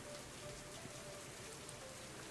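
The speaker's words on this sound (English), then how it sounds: "the rain coming down," Steady rain pours down on a dark city street at night, a constant, even hiss of drops on hard surfaces with no voices over it, faint and continuous throughout.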